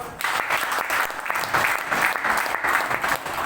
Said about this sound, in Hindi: सर के लिए ताली बजाओ।